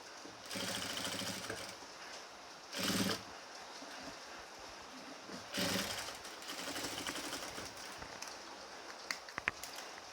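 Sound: sewing machine stitching nighty back and shoulder seam

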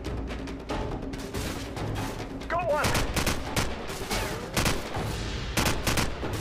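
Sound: AK rifle gunfire in video game Call of Duty 4

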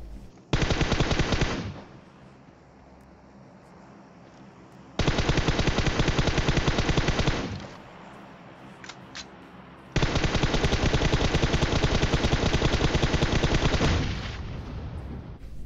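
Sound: gunfire in PUBG Mobile video game

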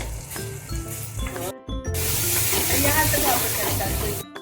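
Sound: masala sautéing in oil in a pan for Malvani prawn curry

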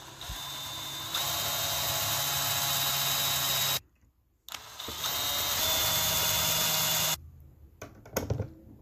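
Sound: power drill drilling holes for furniture leg screws

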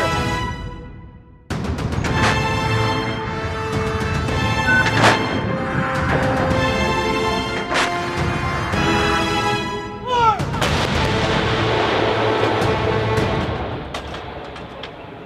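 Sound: artillery guns firing shells

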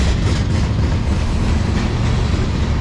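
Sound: CSX manifest freight train passing with ET44AH locomotive

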